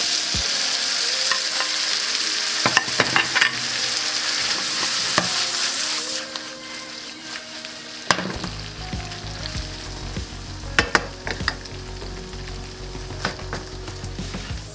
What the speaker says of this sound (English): now let's add the gnocchi